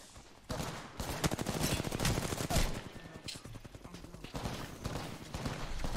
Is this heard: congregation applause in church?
no